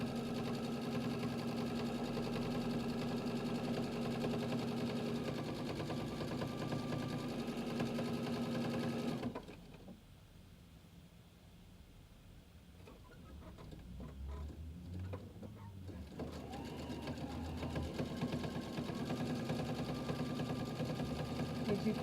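A sewing machine stitching fabric runs steadily with a close mechanical whir, pauses briefly, then starts up again. Someone talks faintly in the background.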